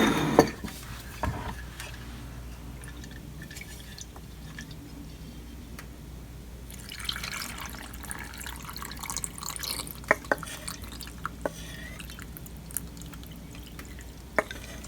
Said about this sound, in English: I'll put the brine in